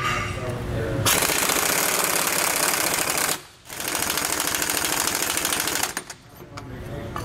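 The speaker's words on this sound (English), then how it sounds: "And we're using a very big impact gun to do so." A large 1-inch drive impact gun with a 1 1/8 inch socket hammers loudly at rusted bolts on a 2017 Ford F-53 chassis, delivering two long rattling bursts separated by a short pause, then a brief final stutter.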